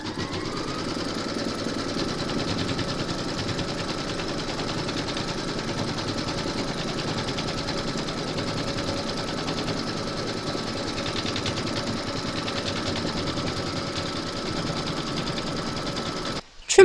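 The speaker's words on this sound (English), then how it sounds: "Pop your hoop into your machine and stitch round number 2 to secure it." An embroidery sewing machine stitches a placement round for a large appliqué parrot design, giving a steady, fast mechanical whir and needle chatter, close and even, ending with a brief louder knock.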